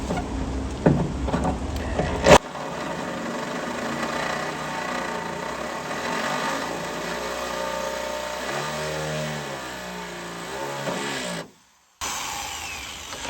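A power drill bores a hood pin hole through the hood of a 2001 Honda Civic, its motor whirring steadily for about ten seconds with shifting pitch, then cutting out briefly before starting again.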